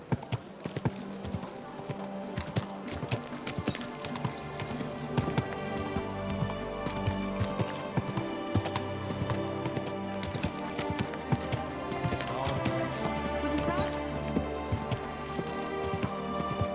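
Horse hooves clip-clop steadily in the medieval game Kingdom Come: Deliverance 2, a continuous rhythmic trot beneath a layered music score and ambient game sound.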